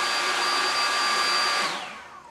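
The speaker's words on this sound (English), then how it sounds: "use a hairdryer" A hair dryer warming a doll's plastic leg blows with a steady high whine and airy rush, then switches off and winds down at the end.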